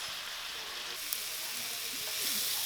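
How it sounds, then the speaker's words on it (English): Hamburger meat browning in a pan, a faint continuous sizzle and crackle running evenly throughout with one small tap, no voices. "I have the hamburger meat going right now. I'm just browning it"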